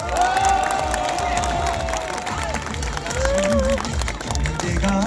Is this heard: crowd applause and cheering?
yes